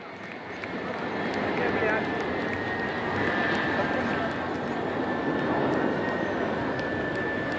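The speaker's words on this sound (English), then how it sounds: "அடுத்த வரிசையில் IL-78 MKI மற்றும் 2 மிராஜ் 2000 ஆகியவை உள்ளன." An IL-78 MKI tanker and two Mirage 2000 jets fly past at an Indian Air Force display over Marina Beach, Chennai, a steady broad roar that swells and holds, with a thin whine and crowd noise throughout.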